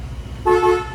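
A 1968 Chevrolet Impala SS horn sounds one short, close, bright toot that begins midway and holds briefly, over a faint idling engine rumble.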